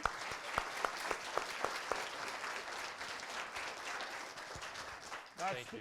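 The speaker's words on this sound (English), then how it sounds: "could you join me in a round of applause for our Board of Education?" Audience applause at a school district board of education meeting, a steady patter of many hands clapping in a hall, fairly faint and sustained, trailing off as a voice begins at the end.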